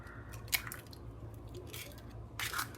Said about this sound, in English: We get the egg, we break it,